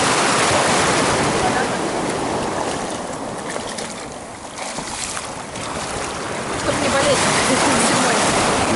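Sea waves washing onto the beach at Adler, a steady broad surf rush with wind noise, swelling and easing slightly over several seconds and holding strong throughout.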